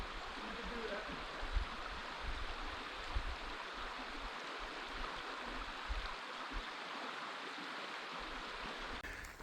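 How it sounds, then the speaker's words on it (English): Creek water flows steadily beside a riverside campsite on the Manistee River, a soft continuous rushing wash with low rumbles, moderately close, under faint wind. "you're right by the creek, which is kind of nice"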